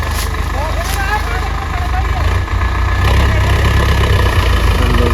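Tractor engine idling at a sugarcane factory, a loud steady low mechanical rumble that runs throughout while people talk over it.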